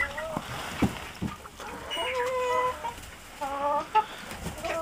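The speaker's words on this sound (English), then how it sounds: "There's a Moran chicken." Several chickens, including a Marans and a mixed-breed bird, cluck and call in a farmyard at feeding time, with clucks repeating at short intervals over light background sounds.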